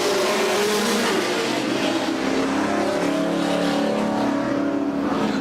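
Factory stock division race cars roar around an oval track during a 10-lap heat, a dense, steady engine drone of several cars at once, loud and continuous with no talk.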